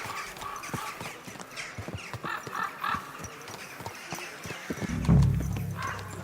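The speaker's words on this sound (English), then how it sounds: "You know how to keep your horse under control. You almost ran me over." Horse hooves clip-clop in steady, close, fairly loud strikes in a medieval-style video game, with a brief whinny or snort near the end.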